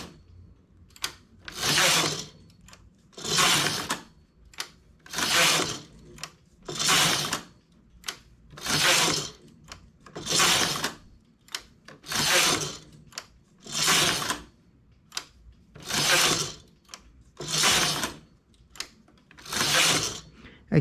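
A knitting machine carriage knitting the heel of a child's tights makes about a dozen regular sliding, rattling passes, each a second or so long with short quiet gaps, close and clear with no talk.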